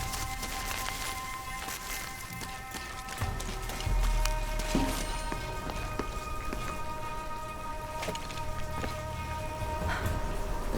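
Steady rain falls in the video game Shadow of the Tomb Raider, a continuous patter of drops on surfaces layered over tonal game ambience, with occasional louder splashes and low rumbles, no voices.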